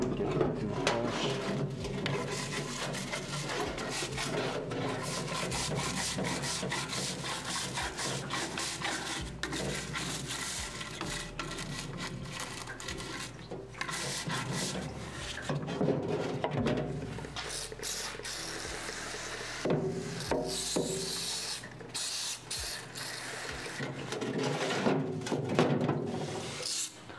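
A toothbrush scrubs a dirty engine part during cleanup before engine reassembly, giving a steady, close, gritty bristle rasp with quick repeated strokes that runs without pause.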